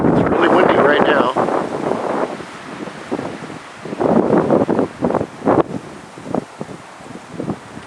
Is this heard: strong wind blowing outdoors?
yes